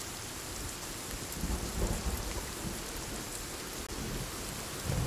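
Steady rain pours over a forest in the survival game Sons of the Forest, with low rumbling thunder rolling underneath and a few louder swells, continuous and close with no voices.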